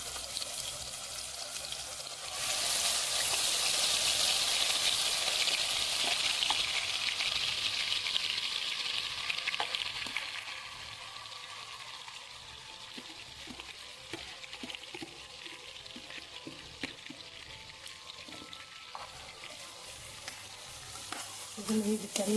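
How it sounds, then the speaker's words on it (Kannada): Chicken pieces drop into 4–5 spoons of hot oil in a frying pan for chicken gravy, with no onion added, setting off a loud bright sizzle that eases into a quieter steady frying as the pieces are stirred. "ಇವಾಗ ಡೈರೆಕ್ಟ್ ಚಿಕನ್ ಹಾಕ್ತಾಯಿದ್ದೀನಿ ನಾನು,"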